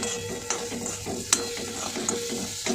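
Chutney sizzles and frying in a pan while a spoon stirs and scrapes it, steady hissing with occasional clinks of metal against the pan, close and continuous without voices.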